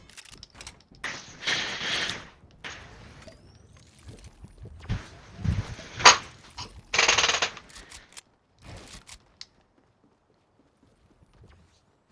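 Gun reloading in a video game: a few sharp mechanical clicks and ratcheting clacks in short bursts, moderately loud and close, with quiet gaps between them and near silence at the end.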